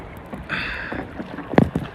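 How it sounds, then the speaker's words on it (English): Water sloshes and laps against a small motorboat off Gulf Shores, Alabama, with breezy wind noise and a couple of sharp thumps near the end. "We're on this little boat thing."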